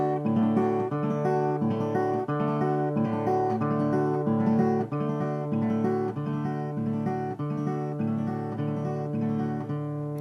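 Acoustic guitar triple roll pattern with an alternating bass line, a steady, continuous rolling fingerpicked figure that repeats evenly throughout, close-miked and played alone without speech.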